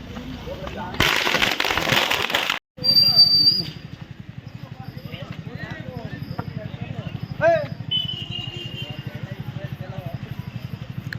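Firecrackers going off during a village Sankranti festival: a dense, loud crackling burst lasting about a second and a half, then people talking in the foreground.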